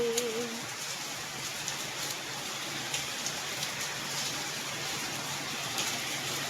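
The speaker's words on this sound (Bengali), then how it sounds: "বৃষ্টিটা হেভি হচ্ছে" Heavy rain pouring steadily in an even, dense hiss with scattered drop taps, moderately loud and unbroken throughout, with no one speaking.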